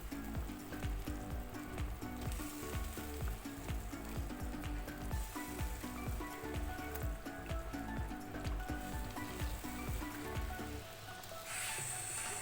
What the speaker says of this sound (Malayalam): നന്നാക്കി വൃത്തിയാക്കി വെച്ചിരിക്കുന്ന മത്തി കഷ്ണങ്ങൾ നമുക്കിതിലേക്ക് പെറുക്കിയിട്ട് കൊടുക്കാം.